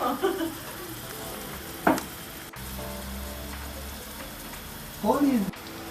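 Chicken frying in oil with red chilies and salt for Turkish tantuni, a steady moderate sizzle running throughout, with short bursts of talk over it.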